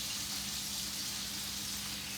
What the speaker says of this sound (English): Once the butter gets melted, it has to sit and splatter